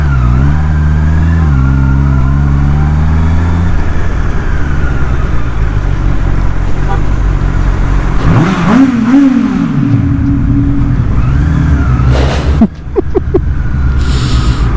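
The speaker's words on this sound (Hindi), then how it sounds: "चलो अभी सुनसान खोपचे में सुनते हैं एग्जॉस्ट की आवाज़ कैसी" A Honda CBR 650R motorcycle exhaust rumbles loud and close at idle, then revs sharply upward mid-clip before settling back down, followed by a couple of short throttle blips near the end.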